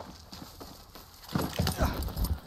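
Horse hooves clip-clop on the ground in a video game, growing louder and heavier as the animal draws near, with a faint voice in the background.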